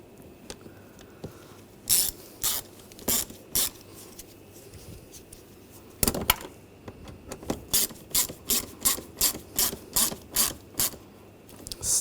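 Screws on a 2007-2013 BMW X5 3.0L inline-six ignition coil cover being tightened with a ratchet, giving bursts of quick clicking, sparse at first and then a steady run of about ten close, crisp ratchet strokes.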